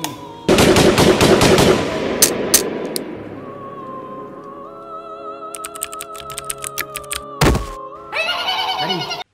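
Machine gun fire in a short film comes first as a loud, rapid burst of close shots, followed by scattered sharp impacts and lingering tones.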